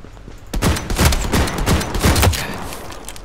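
Shotgun fire in a multiplayer shooter video game: a rapid burst of several loud, booming blasts in close succession, followed by a fading rumble.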